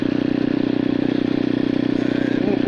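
A small Nitro 125 motorbike engine drones steadily while riding, a close, continuous hum with fine rapid pulsing and a light mechanical clatter throughout.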